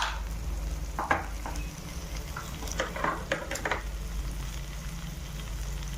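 Garlic chutney in the Kathiyawadi style, seasoned with coriander-cumin powder, turmeric and salt, stirred in a hot pan: a steady soft sizzle with a few scraping clicks of the spoon against the pan.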